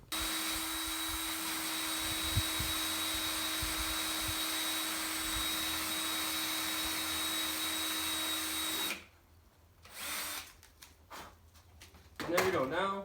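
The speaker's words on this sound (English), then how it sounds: "right now, we just gotta go drill some holes on this" A power drill whines steadily at high speed for several seconds drilling holes in a 2003-06 Chevy Silverado headlight housing, then stops, followed by shorter bursts of drilling and handling noise up close.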